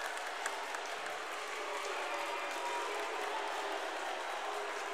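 Broad, steady roar of a crowd in a high school boys' basketball gym, Brentwood vs Ravenwood, a continuous wash of noise with scattered claps throughout.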